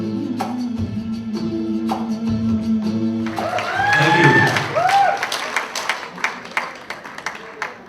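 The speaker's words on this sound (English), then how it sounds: "Give a round of applause to Roshni." At a 2019 association meeting, a song's final tonal notes fade as the audience breaks into applause and cheering, swelling to a peak and then thinning to scattered claps.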